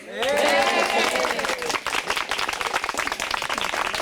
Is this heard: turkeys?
no